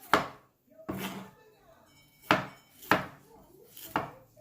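Cassava being sliced with a knife on a cutting board for a pork cassava dish, five sharp, loud chops spaced unevenly, close up, with faint talk underneath.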